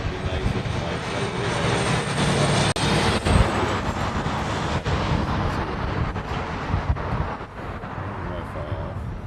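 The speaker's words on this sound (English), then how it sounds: "that United is almost down to the reef runway." A United airliner comes in to land on the reef runway, its jet engines producing a loud, steady roar that swells and holds throughout the stretch.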